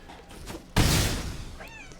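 A winged cat creature in the Magic the Gathering Arena card game lets out a loud game meow after a quiet lead-in, the sound swelling suddenly and then trailing off with a short rising chirp at the end.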